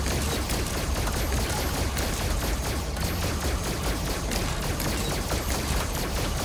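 Continuous rapid gunfire in the VR horror game Five Nights at Freddy's: Help Wanted, a loud, dense barrage of overlapping shots that stays steady throughout with no pauses.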